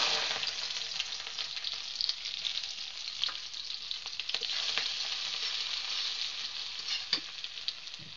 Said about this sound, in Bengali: কড়াই বসিয়ে দিয়ে কড়াইতে সরিষার তেল দিয়ে দিচ্ছি। এবার দিয়ে দিচ্ছি তেজপাতা,